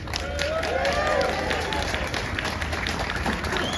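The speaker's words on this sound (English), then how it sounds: "Come on, another round of applause." A crowd of farmers at an outdoor street rally in London applauds a speaker, with steady clapping and murmuring voices throughout and a few whistles cutting through.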